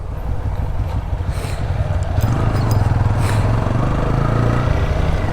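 Motorcycles ridden on the road toward Bandarban, a loud close steady engine drone with wind roar running throughout, no speech.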